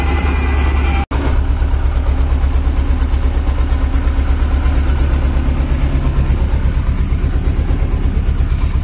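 Farm tractor engine running at a steady low throb, with a continuous loud rumble and a faint high whine above it; one very short dropout occurs early on.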